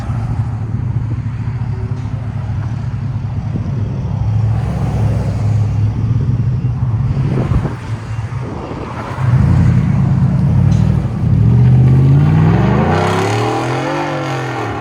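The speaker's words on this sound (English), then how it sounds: "Black Widow F-150 with exhaust cutout right after the cats." A 2019 Ford F-150 FX4 5.0L V8 with Black Widow exhaust and cutout after the cats rumbles loudly and steadily, with a couple of hard revs that surge and fall near the end.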